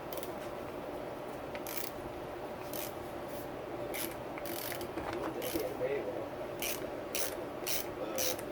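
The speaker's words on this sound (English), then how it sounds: "you hear that pressure is coming out of there" Pressurized gas hisses from a Yamaha YZ-series motocross rear shock during servicing: short, bright bursts of hiss come and go in uneven pulses over a steady low workshop hum, close by and moderately loud.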